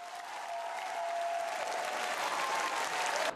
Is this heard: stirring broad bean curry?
no